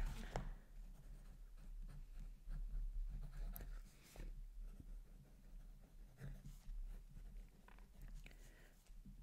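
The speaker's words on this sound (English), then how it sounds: "Let me write that down." Pen writing notes on paper during a quiet wedding-gown measuring role-play, heard as close, soft scratchy strokes in short intermittent bursts over a low background hum.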